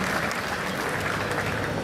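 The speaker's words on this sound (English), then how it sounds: "Please, a big hand of applause." Steady applause from an audience at a Husqvarna motorcycle launch event, a dense, even wash of many hands clapping throughout, fairly close and without pause.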